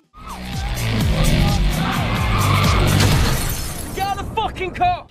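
A film car skids with squealing tires and smashes into a parked car, loud crunching and shattering impact followed by scattered debris and clatter settling at the end.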